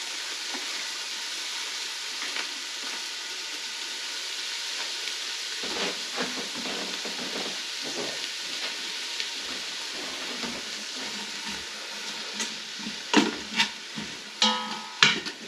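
Onions and garlic browning in a pan for a slow-cooked bone-in leg of lamb, giving a steady soft sizzle and hiss, with stirring clicks and scrapes growing more frequent toward the end, close and without talk.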